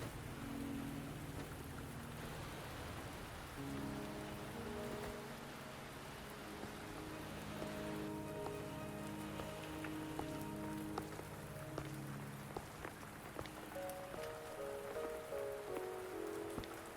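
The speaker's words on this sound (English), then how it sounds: "Are you trapped here by the rain?" Steady rain patters across the scene in the video game Wuthering Waves, a constant soft wash under gentle sustained musical tones, with no talking.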